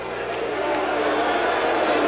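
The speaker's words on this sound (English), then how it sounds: "this crowd is booing" A large baseball crowd in Toronto boos a pitching change in a long, even, distant roar that holds steady for the whole stretch.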